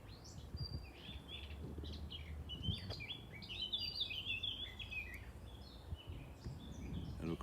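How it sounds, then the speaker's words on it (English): Birds sing and chirp steadily in a castle garden, bright repeated phrases overlapping at moderate distance over a faint background hum. "I hope you can hear the bird song in the background."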